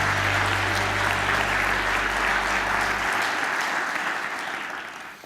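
A conference audience claps in sustained, dense applause for a speaker taking the stage, fairly loud at first, with a low hum beneath it, then thinning and tapering toward the end.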